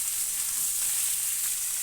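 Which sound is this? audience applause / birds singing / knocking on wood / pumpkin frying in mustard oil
pumpkin frying in mustard oil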